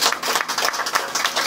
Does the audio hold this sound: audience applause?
yes